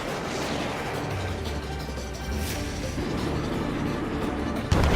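A missile strikes its target in the flight combat game Ace Combat 7: Skies Unknown, giving a dense, sustained roar of blast and rumble with no talk that ends in a sharper, louder burst.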